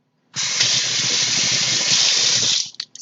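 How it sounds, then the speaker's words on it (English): Water runs hard from a sink tap as a paint brush is rinsed, a loud continuous gushing hiss that starts abruptly and cuts off near the end with a few splashes. "So I rinse it once with water,"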